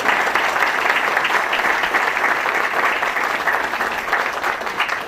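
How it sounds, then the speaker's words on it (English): An audience at a Pawtucket high school groundbreaking ceremony gives a full round of applause, dense and steady clapping from a sizable crowd lasting about five seconds with no speech over it. "if you could just give yourselves a round of applause"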